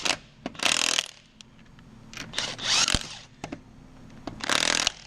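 A Mac Tools 1/2 inch lithium-powered impact gun rips lug nuts off wheel studs in several loud, close bursts of hammering rattle, each lasting under a second, separated by quieter gaps.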